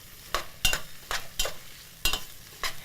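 Buffalo meat, celery and parsnips sizzle in a hot pan, stirred in short, regular scraping bursts over a low, steady frying hiss.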